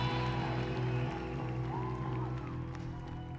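Concert crowd in Iceland clapping along at a Pixies show, uneven clapping under sustained music with droning tones and gliding notes, fairly distant and steady.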